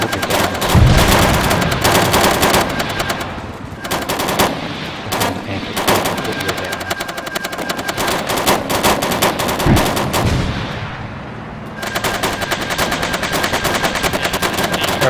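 Sustained bursts of automatic gunfire rattle through a military-style operation exercise, loud and dense with rapid repeated shots and a few heavier booms, continuing almost without pause from start to finish.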